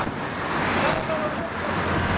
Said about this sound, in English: Now the wind's picking up